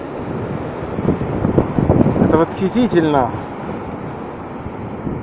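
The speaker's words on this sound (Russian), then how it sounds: "Эти прекрасные волны, этот грохот, эта мощь, эта сила." Ocean surf rolls and roars on the coast at Agaete, Gran Canaria, a broad wind-buffeted wash of waves filling the background while someone speaks briefly up close over it.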